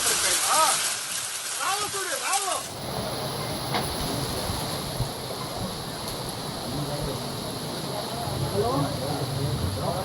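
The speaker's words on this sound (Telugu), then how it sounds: "చిత్తూరు జిల్లా రామకుప్పం మండలం చెల్లగానిపల్లిలో వడగళ్ల వర్షం కురిసింది." Hailstorm rain pouring down in Chellaganipalli village, Ramakuppam mandal, Chittoor district: a steady, dense hiss of falling rain and hail that continues to the end, with a voice speaking briefly at the start.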